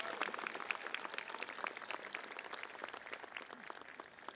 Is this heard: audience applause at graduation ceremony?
yes